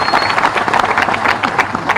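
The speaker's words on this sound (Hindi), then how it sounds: "ताली बजाओ बेटी के लिए।" A crowd at a live public event in Bhopal applauds for a girl, loud and close, with a ragged mass of clapping. Some voices mix into the clapping.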